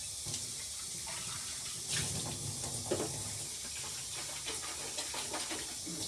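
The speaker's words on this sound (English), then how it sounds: "So we're going to now rinse this out with cold water." Cold tap water runs into a sink to rinse the dirty water tank of a Bissell 3624 Spot Clean Professional portable carpet cleaner, a steady hissing splash with a few sloshing bumps, close and continuous throughout.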